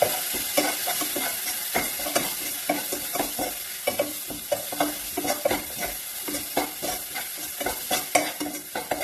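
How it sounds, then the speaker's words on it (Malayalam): Goat brain masala being stirred in a pan with garam masala and fennel powder, quick rhythmic scraping strokes of a spoon over a steady close sizzle of frying spices. "ഇത് നന്നായിട്ട് ഇളക്കി കൊടുക്കാം."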